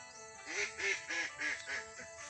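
Ducks quack in a quick run of five nasal calls, close by and moderately loud, with quiet outdoor background in rice fields in the evening after rain.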